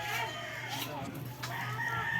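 A rooster crows and chickens cluck amid a busy farmyard din, with a voice faintly underneath, from birds in their coops.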